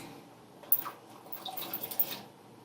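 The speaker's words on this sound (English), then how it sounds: "now I'm going to add my chickpeas" Rinsed canned chickpeas tipped into a pot holding six cups of water, giving a short, close flurry of splashes and plops that lasts under two seconds in an otherwise quiet room.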